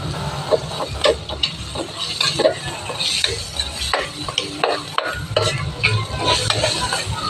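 Ground meat is stir-fried in a pan, with a loud steady sizzle broken by frequent clattering scrapes of a utensil against the metal.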